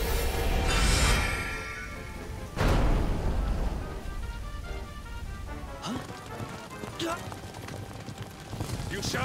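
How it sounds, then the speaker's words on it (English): Horse hooves clip-clop in the video game Dragon Quest XI, a patter of hoofbeats amid rain-like ambience and bursts of game effects, with a person talking over the scene. "Those poor horses just chilling out there, enjoying themselves"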